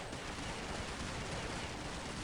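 Dense, continuous gunfire in Counter-Strike Online zombie classic mode, a loud, unbroken wash of rapid shots filling the whole moment with no talking.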